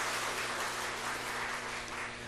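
A church congregation applauds the choir in a dense, steady wash of clapping that holds at an even level for the whole moment, with no voices standing out.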